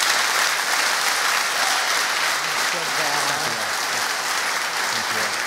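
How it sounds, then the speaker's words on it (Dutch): Loud, sustained applause fills the room for the core team at the closing of a Drupal conference, steady throughout with a voice speaking underneath partway through. "En graag een heel hard applaus voor het kernteam."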